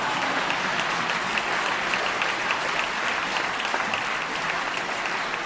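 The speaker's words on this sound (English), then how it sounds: "You can applaud that, I know" Audience applause after a line in the State of the State address, a sustained, even burst of clapping from a large crowd, with no talking over it.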